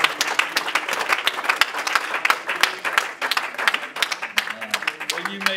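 Church congregation claps hands in praise, a dense, lively burst of steady applause that carries on loudly for several seconds.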